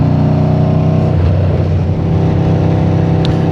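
A loud Aprilia RSV4 Factory sport motorcycle with a 200 hp engine and loud exhaust drones steadily while being ridden, its engine note holding close and strong with a slight shift partway through.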